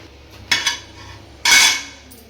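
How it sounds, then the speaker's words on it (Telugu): A metal stand is set down inside a heated, empty pressure cooker pot, giving two sharp metallic clanks followed by a longer ringing scrape, close and loud with no talking. "దీని లోపల ఒక స్టాండ్ పెడతాను"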